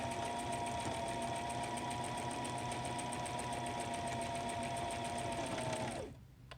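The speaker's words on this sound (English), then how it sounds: "we're just gonna sew forward again, trying to ride along the edge of those teeth all the way to the other end" A sewing machine stitches steadily forward along the edge of zipper teeth on a zipper pouch, a loud, even mechanical whir with a rapid needle rhythm running continuously for about six seconds before stopping abruptly.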